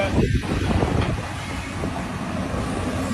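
A metro train rumbles and rattles along at moderate volume, with rhythmic clacking and gusty wind noise against the microphone.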